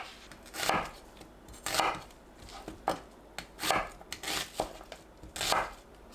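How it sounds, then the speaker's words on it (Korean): Knife chopping pear and onion on a cutting board, several firm cuts in an uneven rhythm with short pauses between them, close and fairly loud. "배, 양파를 믹서에 갈기 좋게 대충 썰어주세요."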